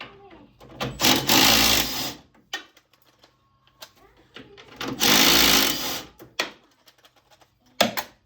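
Impact wrench on the jet pump nuts of a SeaDoo 130/155 GTI watercraft, two loud rattling bursts of about a second each with clicks and handling noises between them.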